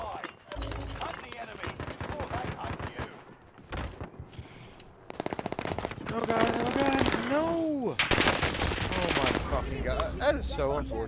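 Bursts of automatic gunfire and single shots crack through a Call of Duty Warzone match on Fortune's Keep, loud and close in rapid clusters, with players talking between volleys.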